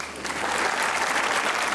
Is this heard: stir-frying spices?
no